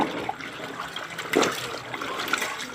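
Water sloshing and trickling as laundry is rinsed by hand in a basin, a soft, continuous watery wash with a brief louder splash near the middle.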